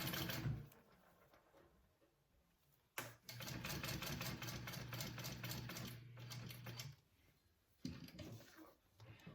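A sewing machine stitches a circle bag in two long runs of rapid, even mechanical chatter with a steady motor hum, separated by brief pauses and a short restart near the end.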